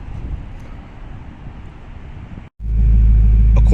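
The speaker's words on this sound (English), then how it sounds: "Hopefully get some muscle car rumble." Wind buffets the microphone, then after a short dropout a deep, loud muscle car engine rumble rolls in close by and holds steady.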